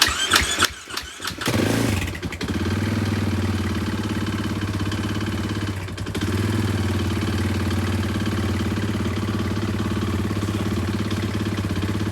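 A motorcycle engine cranks and catches, sputtering briefly before settling into a steady, loud idle that runs on alone, close by.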